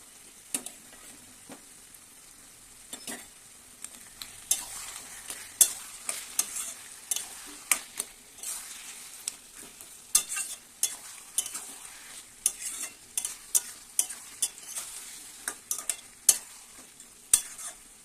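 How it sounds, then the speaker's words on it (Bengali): A spoon scrapes and clicks around a pan as ground fried cumin is mixed into bottle gourd curry, with irregular close stirring strokes over a faint, soft sizzle. "এবার মিক্স করে দেবো এর সঙ্গে।"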